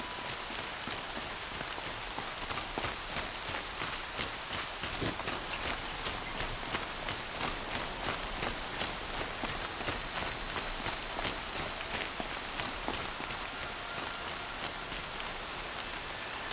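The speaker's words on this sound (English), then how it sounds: "Rain's not so bad." Rain falls steadily in Horizon Zero Dawn, a dense, even patter of drops on surfaces with no break, moderately loud and without voices.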